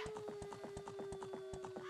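Steady horse hooves clip-clop at a brisk, even rhythm during a ride in The Legend of Zelda: Ocarina of Time, over a constant tonal game music drone, with no speech.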